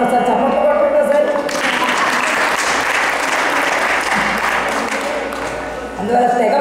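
An audience gathered for a Telugu religious discourse bursts into loud, sustained applause that swells after a spoken line and holds as a dense roar of many hands, fading as a voice returns at the end.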